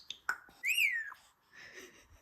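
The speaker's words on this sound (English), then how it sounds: "I apologize if you hear any whistling noises in the background." An African grey parrot whistles a bright rising-and-falling note after a couple of sharp clicks, then a softer breathy chirp follows, close and fairly quiet.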